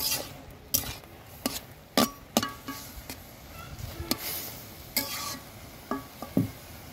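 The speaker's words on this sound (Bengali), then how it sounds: "উঠাই নিলাম, একটু নেড়ে দিব।" A utensil scrapes and knocks against a pan while taro stems are stirred, giving irregular sharp clatters over a low simmering sizzle, fairly close and with no talking.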